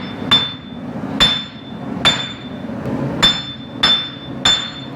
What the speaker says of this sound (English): A couple more love taps with the 4-pound hammer